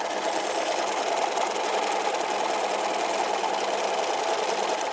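Sewing machine running a straight seam, an even rapid mechanical hum and clatter held at constant speed throughout, close by with no talk.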